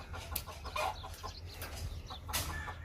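Roosters and hens at a poultry farm in Saudi Arabia cluck in short, scattered calls, some close and some farther off, over a low, constant farm hum.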